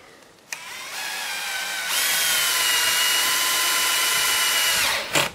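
A power drill drives screws into pallet boards while a chicken coop is assembled, with a short burst of whirring, a brief pause, then a long, loud, steady high-pitched whine that stops abruptly, heard alone and close.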